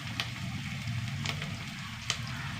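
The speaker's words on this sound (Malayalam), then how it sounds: "ഉള്ളിയൊന്ന് വെക്കാം ഉള്ളി ചെറുതായിട്ട് വഴണ്ട് വന്നു ചെറിയ കഷ്ണം ഇഞ്ചി" Onion and a small piece of ginger sauté in a hot pan with a steady, close sizzle, and a few sharp stirring clicks break through at intervals.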